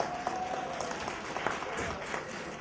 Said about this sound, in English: those who went to Howard can clap